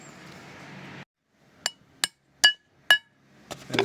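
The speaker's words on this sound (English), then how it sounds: "I've got a new pilot bearing to go in, so I'll knock that one out and get a new one in" Four sharp metallic hammer blows knock an old pilot bearing out of a Subaru EJ257 forged engine during a build, evenly spaced and ringing, following a short burst of noise and then silence.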